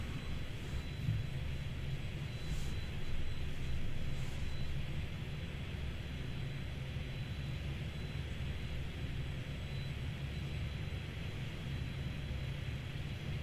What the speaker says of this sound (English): nice 787 crossing in to the gate there